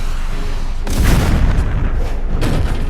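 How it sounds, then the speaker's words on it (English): A heavy explosion booms in the Iron Man 2 video game, a deep rumbling blast rising out of steady background noise, with a second burst trailing near the end. "That explosion was way too big."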